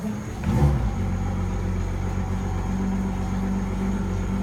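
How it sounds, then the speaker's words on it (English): A boat engine on a Jaguar 35 yacht fitted with a wireless man-overboard system starts up, a brief cranking catch followed by a steady, loud, close idling rumble with no talk. "the engine will start."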